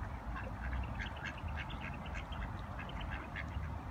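Mandarin ducks, including a female with a half-broken tail feather that may be moulting, quack in a rapid scattered series against steady low background rumble, with no talking.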